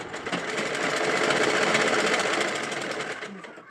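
A sewing machine runs in one continuous burst as it stitches the edges of a belt for a baby cap, a loud, fast rhythmic whir that slows and stops near the end.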